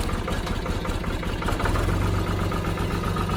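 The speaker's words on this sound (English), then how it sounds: "fire up the tractor." An old Ford tractor engine runs at a steady idle, a loud close diesel-like chug with a regular knocking pulse that grows slightly fuller midway, with no voices.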